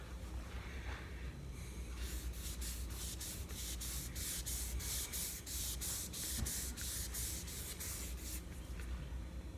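Wood stain is wiped by gloved hand onto a Vega Tubaphone tenor banjo, a soft continuous rubbing broken by a rapid run of regular brushing strokes, quiet and close, with no talking.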